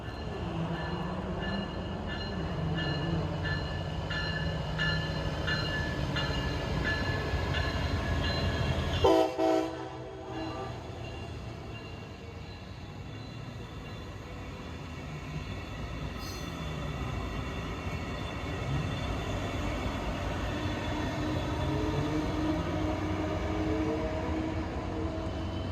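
A Brightline passenger train departs southbound from a station, its continuous rumble and rail noise steady throughout, with a brief sharp horn-like burst partway through and faint squeal near the end.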